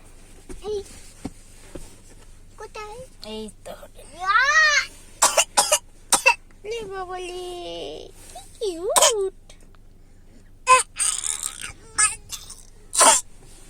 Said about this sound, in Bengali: এরকম ইচ্ছা করে কাশি কে কাশে রে